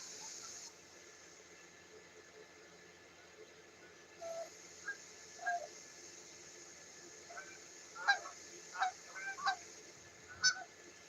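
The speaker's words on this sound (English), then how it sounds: "Obviously no shortage of Canada geese" Several Canada geese honk at moderate distance, starting sparse then coming in a quicker cluster of loud calls over a steady outdoor hiss.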